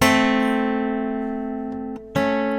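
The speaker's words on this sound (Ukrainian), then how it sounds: "маленька терція звучала би так" A sustained two-note interval, a minor third, rings and fades, then briefly cuts out before the tones are struck again near the end.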